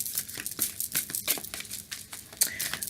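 A deck of Spirit Animal oracle cards is shuffled by hand: quick, crisp riffling and slapping of card stock in a fast, irregular rhythm, close and alone with no talk.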